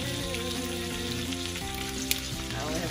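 Mixed root vegetables sizzle in a hot pan just after being added. A steady, loud, dense frying hiss runs without a break, with a brief sharper crackle partway through and no voices.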